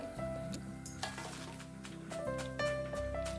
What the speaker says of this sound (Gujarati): આવી રીતે બધી વેફર ક્રિસ્પી થાય ત્યાં સુધી આપણે તળી લઈશું